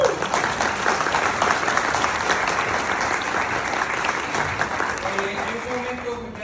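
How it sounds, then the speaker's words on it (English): Sustained, dense applause from a conference audience after an engineering talk, steady and loud throughout, with a voice briefly rising over it near the end. "let's one more round of applause."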